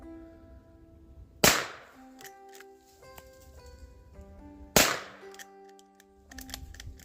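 Two sharp, loud rifle reports about three seconds apart from a Rossi R92 lever-action firing 44 Special skeeter loads outdoors, each crack ringing out briefly before settling into quiet.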